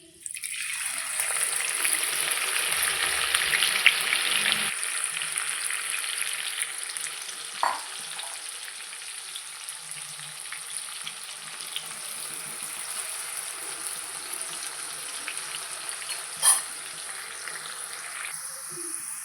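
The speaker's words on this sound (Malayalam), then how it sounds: "ഉള്ളി പൊരിച്ചെടുക്കാം." Sliced onions frying in hot oil in a pan, a steady loud sizzle throughout with occasional clinks and stirring scrapes close by.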